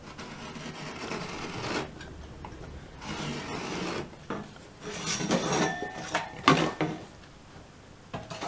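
Metal scribe scratching lines through zinc-coated sheet metal for a pre-war car's wired edge guard: several faint, brief raspy scrapes in short strokes, close by, with no talk.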